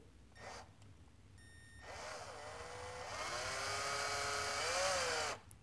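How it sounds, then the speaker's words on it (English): A cordless drill driving a tap into plastic whirs at low speed, its motor pitch steadily climbing as it cuts through, starting after a few brief bursts and stopping abruptly. "I'm going to do this with my cordless drill, but I'm going to put it in a slow speed"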